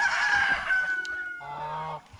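Chickens roaming outside a fence cluck and call, a rooster-like crow and a honking note rising nearby over a short moment, fairly close and clear with no talk.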